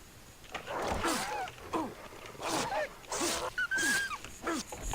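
Wild dogs in the video game Far Cry 3 bark and yelp in a series of sharp, close calls, with growls and whimpers mixed in against faint ambient game sound.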